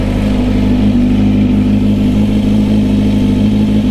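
A Kawasaki Z900 motorcycle's exhaust drones loud and close with a steady, deep, throbbing tone, holding an even rumble without revving up or down.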